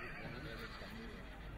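A horse at an AQPS sale show in western France, released at the trot; steady hoofbeats and a whinny sound under a loud presenter's voice over a public address system.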